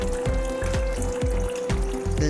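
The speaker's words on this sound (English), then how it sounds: "Use the infusion mode to discharge the remaining citric acid in the equipment with clear water." Clear water flushes citric acid residue out of a pipe cleaning machine running in infusion mode: a steady mechanical hum with rhythmic surging pulses of water, close and fairly loud, with no talking.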